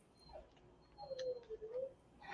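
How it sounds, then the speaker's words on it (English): A dog whines behind a door, giving a few thin, rising whimpers and yips at a moderate distance, quiet between the cries and with no talking. "And we got a whiny dog in the background."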